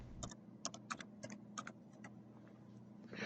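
Computer keyboard typing in an office, a quick run of light, crisp key clicks in irregular bursts, close and fairly quiet, with no speech.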